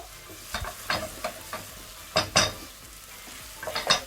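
Mutton trotters (paya) stirred in a pot, giving a series of separate scraping and sizzling bursts with short quiet gaps, close and moderately loud, with no talk.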